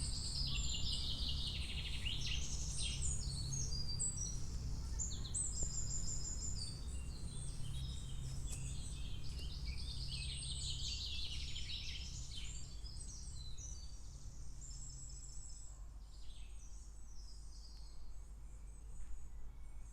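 Birds chirp and twitter in quick, high calls over a steady bed of insect buzzing and crickets in late-May woodland near a large beech tree, all fairly faint and continuous.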